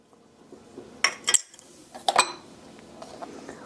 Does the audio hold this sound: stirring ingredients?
yes